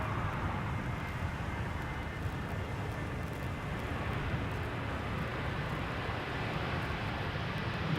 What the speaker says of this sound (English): First up, Transavia A321neo arriving from Kalamata,